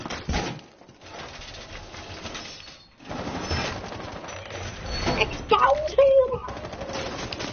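Rapid gunfire bursts ring out in a video game while excited players talk and shout over the shots.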